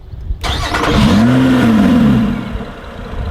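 A Lotus sports car engine cranks and fires up with a loud roar, rising into a brief rev before settling back to a rumbling idle close by.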